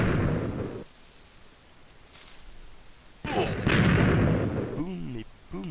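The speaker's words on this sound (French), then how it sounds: "Ah, ça a explosé. Il y a tout qui explose en fait." Explosions in the Minecraft video game burst out in a loud, dense rumble early on, then fade. Another thudding blast follows later, mixed with game sounds and brief voice-like tones.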